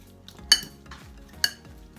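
A spoon knocks twice against a bowl, bright and close, while meat stuffing for Italian stuffed peppers is mixed, with soft scraping and shuffling between the clinks.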